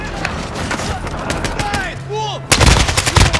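Rapid gunfire bursts from the video game Modern Warfare 2 play loudly and densely, with a heavier volley erupting near the end, while excited voices talk over the shooting.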